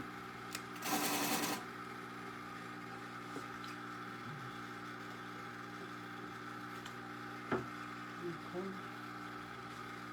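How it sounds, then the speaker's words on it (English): Water pump on a Dewalt lapidary grinder left running, a steady low mechanical hum with tonal bands that continues throughout, with a brief louder burst near the start and a short spoken word. "That's my pump that's still on."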